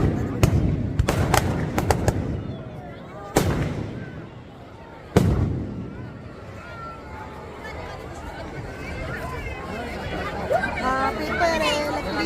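Firecrackers burst during Dussehra celebrations. A quick run of loud bangs comes first, then two more isolated blasts, followed by crowd chatter and voices carrying on in the background.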